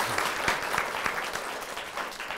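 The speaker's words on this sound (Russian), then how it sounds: "Под ваши бурные аплодисменты." An audience in a hall claps loudly and steadily after a master class, continuous applause with sharp individual claps.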